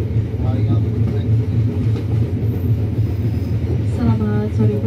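Interior of the moving Airlangga passenger train between Surabaya and Jakarta, a loud continuous low rumble of the carriage with rhythmic rail noise and faint voices in the background.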